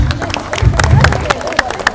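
Small audience at the Nilotsav 2022 dance event breaking into scattered, uneven clapping, fairly close and lively, with crowd murmur and a voice underneath.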